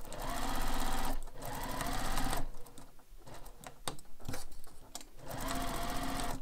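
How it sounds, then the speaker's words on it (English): A sewing machine stitches the corners of a carryall bag, including backstitching, as a close, fast mechanical whirring run that stops in short breaks and starts again several times. "I'm just sewing in the corners, I'm backstitched there"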